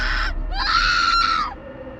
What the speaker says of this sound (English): I heard the sounds of a loud scream